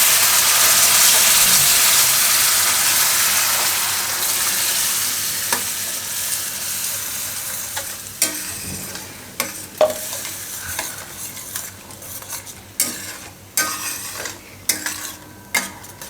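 Ground poha batter goes into a hot pan for appam and hisses loudly, then the sizzle eases while sharp utensil clicks and scrapes come faster near the end.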